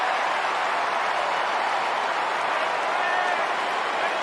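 A big crowd applauds steadily at an Australian football match at the MCG, a dense, even roar of clapping held at the same loud level throughout.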